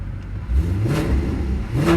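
A Maserati Quattroporte Sport GT engine revs in sport mode, with two rising blips about a second apart, close and fairly loud over a steady idle.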